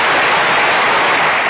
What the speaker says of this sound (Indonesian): Tepuk tangan untuk Pak Irwan Hidayat.